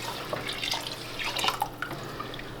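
Cold water pours and splashes into a pot of rice, a close, bubbling, trickling sound with irregular gurgles and drips that fade toward the end.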